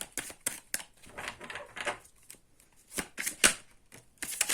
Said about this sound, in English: Let's get 3 more cards for Aquarius